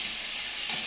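Onions and tomatoes are sautéed in a pan, giving a steady, close, even hiss of sizzling that fills the whole brief moment with no voices.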